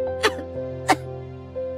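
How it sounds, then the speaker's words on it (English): A weak, sickly young princess gives two short coughs about half a second apart, set against soft, sustained background music. "Pisces' sickly cough stopped all the princesses."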